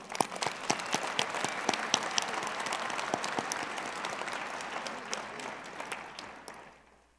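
Sustained audience applause at a university graduate commencement ceremony, many hands clapping in a dense steady patter from a large hall crowd, fading out toward the end.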